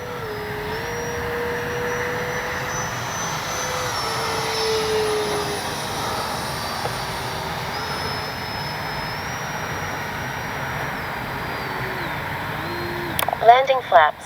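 An E-flite 80mm Habu XS electric ducted-fan RC jet flies a low gear-down pass, a steady, whining fan roar that shifts slightly in pitch as it passes, ending with wind buffeting near the microphone.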